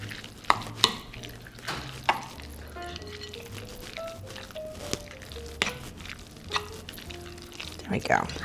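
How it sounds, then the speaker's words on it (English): Eggplant rollatini filling is stirred in a pan with a few sharp utensil knocks and scrapes over a low sizzle, set against a melodic background tone. "so let's give this a stir"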